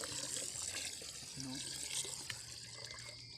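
Water is poured into a cup of rubber latex and stirred, a soft continuous trickle and slosh with a brief gurgle midway, fairly faint, with someone talking over it.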